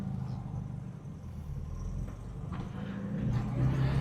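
An original air-cooled VW GT Beetle engine runs during its first drive in a decade, a low, steady rumble that swells slightly toward the end.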